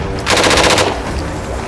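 Burst of rapid fully automatic fire from a Thompson submachine gun in a World War II video game against Japanese forces, a loud rattling volley lasting about half a second, then stopping.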